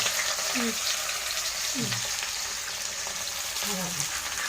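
Onions for a raw prawn gongura curry fry in a pan with a constant, close sizzle, while brief low voice sounds surface intermittently beneath the hiss.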